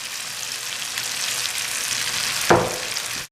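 Crushed black chickpeas (kala chana) go into a frying pan of hot oil and masala for a curry, giving a steady loud sizzle that surges briefly as they land, with no talking.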